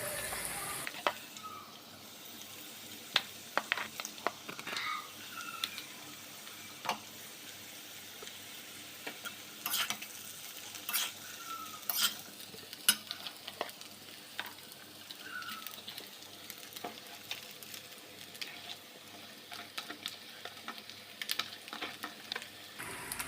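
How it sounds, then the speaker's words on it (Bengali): Cooked rice is stirred into vegetables fried in ghee in a pan, a quiet continuous sizzle dotted with light, irregular spatula clicks and scrapes over a long stretch. "সবজিগুলো ভাজা হয়ে গেছে মধ্যে এবার ভাতগুলো দিয়ে দেব"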